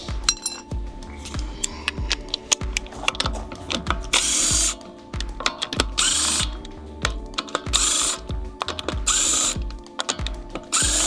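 A smaller impact wrench works on fasteners of a B5 Audi S4 during an evap delete, firing off repeated short rattling bursts with brief pauses between them, close up and loud, with some clanking of tools around.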